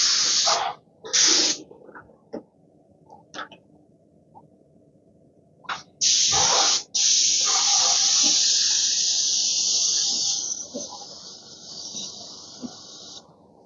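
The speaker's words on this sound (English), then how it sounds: "So let's go ahead and start spraying." A Graco 695 airless paint sprayer hisses in short bursts, then in a long sustained spray of eggshell-finish paint onto panels, close and loud with brief pauses between passes.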